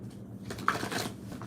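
Tarot cards being shuffled by hand, a quiet papery riffle of brief rustling bursts in the middle of the moment with no talking.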